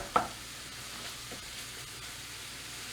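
A pan sizzles with a soft, steady hiss, a single sharp knock near the start, then faint scraping as food is stirred.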